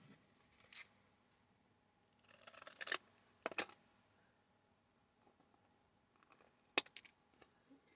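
Scissors trim paper for a Harry Potter collage page in several short, crisp snips spaced apart, close and clear against a quiet room.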